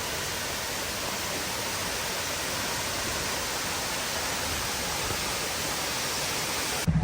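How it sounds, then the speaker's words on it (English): A waterfall in Mauritius, a steady, dense broadband rush of falling water, loud and unbroken throughout. "let me show you a bit of waterfall as well."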